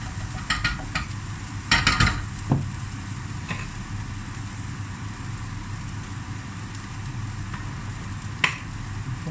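Red onion and garlic frying in a pan, a steady soft sizzle with a few sharp clicks and scrapes of a utensil stirring around the two-second mark, quiet and close.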